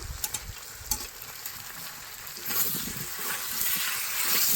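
Ginger and cumin spice paste being stirred with yam in a frying pan, a steady hiss of sizzling oil with occasional scraping clicks, growing louder toward the end, no talking.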